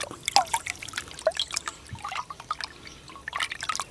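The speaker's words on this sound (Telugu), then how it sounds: "ఇడ్లీ రవ్వని బాగా పిసుక్కుని కడగాలండి అలా కడుక్కుంటే బాగుంటుంది" Soaked idli rava is squeezed and washed by hand in water, giving close, irregular splashes, trickles and drips that come and go in short bursts, with no talking.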